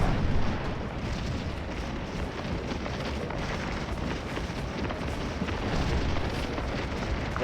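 Artillery firing in a Napoleonic battle video game, a steady wash of distant cannon rumble and booming blasts with a heavier thump at the start, continuous and moderately loud without speech.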